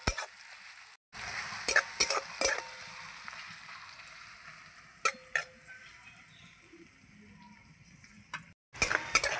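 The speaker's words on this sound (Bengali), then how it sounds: "পেঁয়াজটা আমি ভালো করে লাল লাল করে ভাজবো" Chopped onions fry and sizzle in a pan until browned, a steady high crackle with occasional louder stirring scrapes and clinks, close and without any voices.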